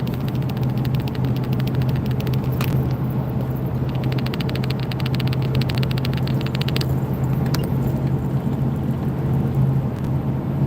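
A black 2017 Dodge Ram pickup truck is driving, heard from inside the cab as a steady low road and engine rumble that never lets up, with no talking.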